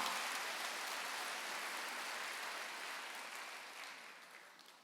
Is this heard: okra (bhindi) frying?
no